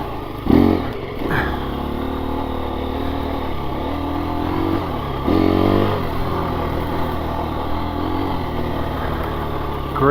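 A 2024 KTM 350 EXC-F dirt bike engine revs steadily up close on a muddy trail ride, with a few sharper throttle blips rising above a continuous running drone.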